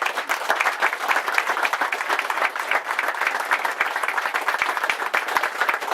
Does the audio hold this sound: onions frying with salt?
no